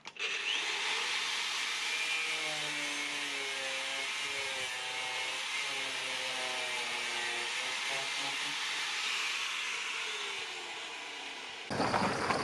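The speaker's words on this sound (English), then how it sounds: "We powered the grinder and cut the thing off under the van." An angle grinder run from an Allpowers S700 portable power station cuts through metal under a van, a steady harsh whine with grinding rasp lasting nearly the whole stretch, close and loud, cutting out near the end.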